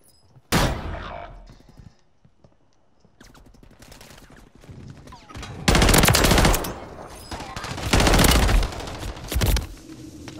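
Bal-27 rifle fire in the video game Battlefield 2042, heard as loud, close bursts of rapid automatic shots separated by quieter stretches of in-game ambience and movement.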